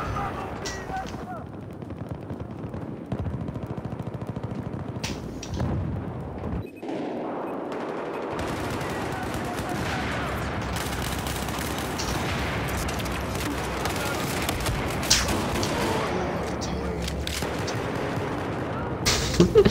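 Video game gunfire, rapid automatic bursts and repeated shots over dense battle noise, loud and nearly continuous after a brief quieter opening.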